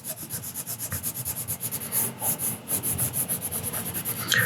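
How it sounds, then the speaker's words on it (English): The side of a watercolour pencil shades across paper in quick, rhythmic scratchy strokes, close and fairly loud, each stroke a short dry rasp repeating steadily without any talk. "like I'm using the side of the pencil"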